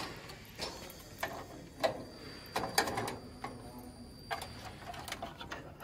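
Arm pin pulled from a Hunter alignment wheel sensor, a series of close, crisp metallic clicks and ticks at irregular intervals over a faint steady hum in a shop.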